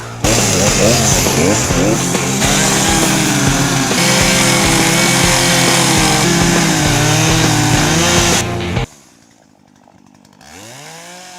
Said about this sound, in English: So I got my chainsaw and got ready to chop some wood.